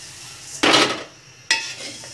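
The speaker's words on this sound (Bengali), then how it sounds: "এভাবে নেড়ে নেড়ে ভেজে নিব পুরো সেমাইটা" Broken vermicelli is stirred and fried in a hot kadai, with two loud, close scraping sweeps of a utensil against the pan separated by a brief pause, and no talk.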